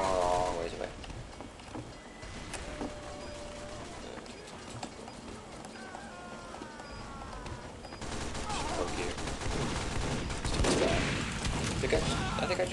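Rapid gunfire in Team Fortress 2, bursts of shots over busy game noise, growing louder and denser toward the end.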